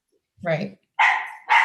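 A dog gives a single short bark nearby during a remote meeting, followed at once by a person speaking.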